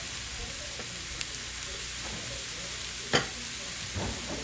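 Tofu stir-frying in a pan gives a soft, steady sizzle with a few sharp clinks of stirring, heard alone and fairly quiet.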